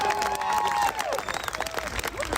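An audience claps and cheers briefly in a continuous burst that fades after about a second, followed by scattered claps and background voices.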